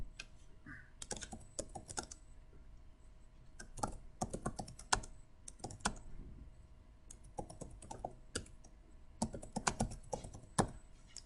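Someone types on a computer keyboard in bursts of quick, close clicking keystrokes, separated by short pauses.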